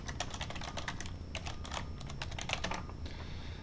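Rapid clicking keystrokes on a computer keyboard come in quick bursts, close and clear, with no voices.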